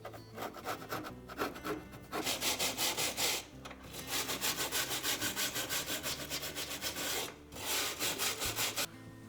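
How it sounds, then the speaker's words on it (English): Old felt is scraped off the metal drum of a Frigidaire dryer with a putty knife or wire brush, giving rapid, rhythmic rasping strokes in bursts with short pauses, close and fairly quiet. "we'll scrape off all the old felt using either a putty knife or a wire brush"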